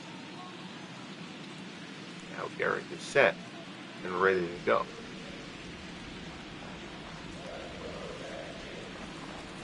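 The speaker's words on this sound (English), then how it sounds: "It's been raining since the start, and rain is expected pretty much throughout this ballgame." Steady rain falls throughout a baseball video game, Twins at Yankees in a playoff game: a constant soft hiss of rainfall with a commentator's voice briefly speaking over it.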